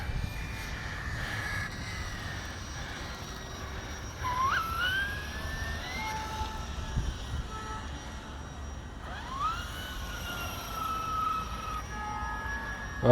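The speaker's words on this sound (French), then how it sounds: "Je vais chauffer un peu les pneus." A car engine revs and drones steadily while heating its tyres with a caravan in tow on tarmac, pitch sweeping up and down in a few surges over constant road and wind rumble.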